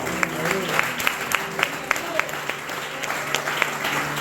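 A church congregation claps in a steady, even rhythm, with crisp close-up claps over a dense crowd bed and a voice speaking beneath.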